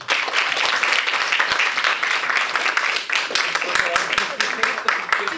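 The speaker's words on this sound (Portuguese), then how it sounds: "Palmas para nós." A classroom of students breaks into loud, sustained applause, dense clapping filling the room with a few voices mixed in.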